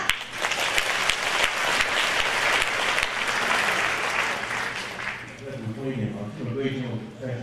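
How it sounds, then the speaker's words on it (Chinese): An audience applauds at a folk song concert, the clapping dense and loud for about five seconds before thinning out and fading, with a few voices and sounds emerging as it dies down. "掌声鼓励一下"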